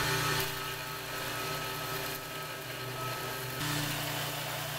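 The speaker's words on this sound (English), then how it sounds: "So I'm going to grind the edges where I want them." A grinder runs steadily against the edges of a forged dagger blade meant as a letter opener, a loud continuous abrasive roar that shifts slightly as pressure changes, with no voices.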